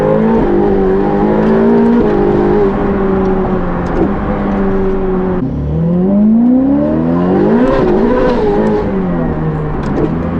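A car engine revs and accelerates steadily, its pitch climbing and dipping through gear changes, loud and close throughout.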